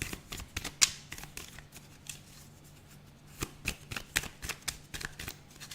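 Tarot cards being shuffled by hand, a close, crisp riffling and slapping in quick uneven bursts with a brief lull in the middle, with no voices.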